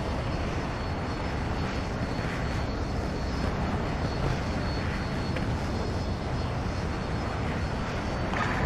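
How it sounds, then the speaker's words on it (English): Steady, loud twin-engine roar of an SU-57 Felon fighter jet in Battlefield 2042, heard from the cockpit, a continuous broadband rumble with no breaks across the whole stretch. "SU-57 Felon. It's a twin engine. It's got two small twin engines."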